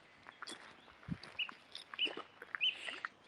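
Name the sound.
birdsong at Dryburgh Abbey grounds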